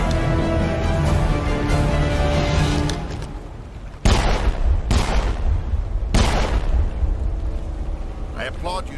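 Heavy suppressive gunfire in the Mass Effect video game, a loud sustained barrage with sharp bursts and booming impacts mixed under battle noise and voices.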